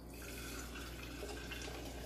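Tap water running steadily into a glass jar of sprouting seeds, a continuous close splashing fill with no voices over it.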